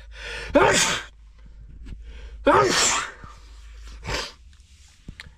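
Two loud sneezes a couple of seconds apart, each with a sharp intake, followed by a shorter sniff or gasp; close and otherwise quiet.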